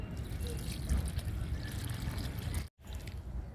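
Liquid fertilizer pours onto a flowering garden plant, a close, steady trickle that runs for about three seconds, breaks off briefly and then resumes.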